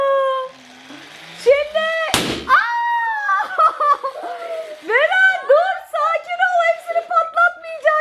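A single sharp balloon pop bursts out amid high-pitched squealing and chattering voices, followed by excited exclamations.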